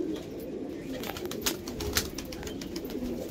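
Several pigeons coo in a continuous low murmur, with faint clicks and a few brief sharp bird calls rising over the steady background.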